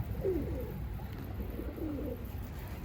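Bangola pigeons in a loft give soft low coos, two brief calls over a steady rumbling background, fairly close and faint.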